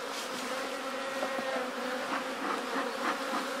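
Many honeybees buzz in a steady, dense drone close by at an open hive with a double brood box, a continuous hum that rises and falls slightly.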